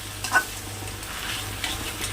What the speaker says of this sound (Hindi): अब थोड़ी सी पानी डाल करके सॉसेस को अच्छी तरह से भून लेती हूँ